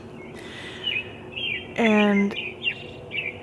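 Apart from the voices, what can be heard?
birds chirping before dawn, seemingly from the sky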